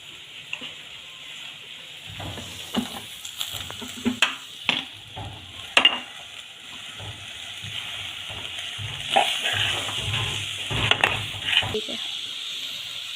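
Sambharo, a Gujarati vegetable stir-fry, being stirred in a hot pan with salt added: a steady sizzle with scattered scraping and clattering knocks of a spoon against the pan, close and moderately loud.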